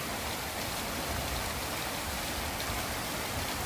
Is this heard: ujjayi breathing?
no